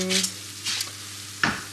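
Thin vermicelli frying in sunflower oil in a pan, a steady soft sizzle running throughout with brief stirring scrapes at the start, middle and near the end, close and moderately loud.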